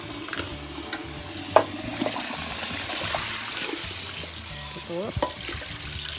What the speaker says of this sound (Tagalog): at ngayon ay atin na po siyang i-drain natin siya.